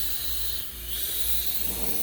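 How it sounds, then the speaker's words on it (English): AMSOIL silicone protectant sprayed from an aerosol can onto car plastics and trim: a steady, close, continuous hiss held for the whole stretch, with a brief dip midway. "Just hold it all the way down, and just keep it down and spray all the plastics, the trims."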